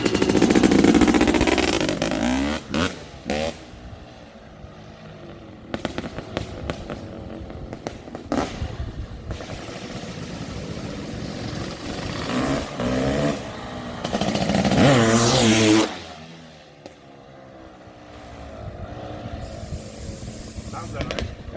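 A CR500AF aluminum-frame two-stroke motorcycle engine runs with the choke off, revving in sharp bursts and crackling blips, rising to a sustained high rev before dropping back to a rougher idle.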